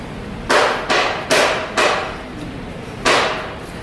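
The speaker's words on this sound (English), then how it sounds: "Sorry, there's just someone hammering." Someone hammering nearby: five sharp metallic strikes, four in quick succession and then one more after a pause, each ringing briefly.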